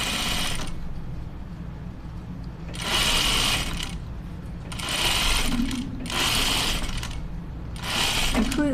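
A sewing machine runs in five short, loud bursts of stitching with quieter pauses between them while a waistband is sewn on City Gym Shorts.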